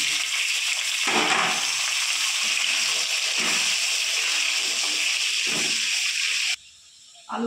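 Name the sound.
potatoes frying with tempering spices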